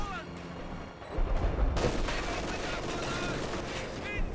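A German MG42 machine gun rattles off bursts in a World War II strategy game, set amid a dense, continuous din of battlefield gunfire, with a commentator talking over it.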